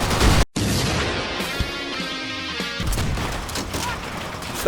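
Grenade blasts and gunfire from the Pacific battlefield in Call of Duty: World at War. A loud crash cuts off sharply, then a rumbling explosion follows, with scattered shots and debris after it.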